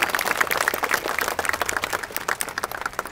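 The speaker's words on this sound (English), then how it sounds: "So let's give him a round of applause." Audience applause at a Marine Corps Recruit Depot San Diego event, a dense wash of many hands clapping steadily throughout, loud and close with no talk over it.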